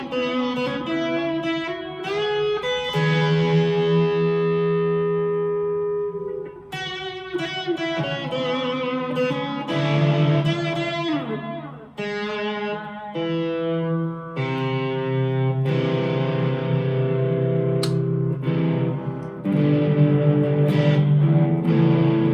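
A Korean-made 2002 Epiphone Les Paul Custom electric guitar played through its neck pickup with distortion and effects, sustained chords and single notes ringing out loud and alone.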